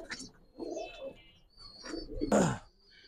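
Pigeons coo at a pigeon farm housing high flyers, racers and fancy breeds, a few soft, brief throaty calls rising over quiet background chatter of birds.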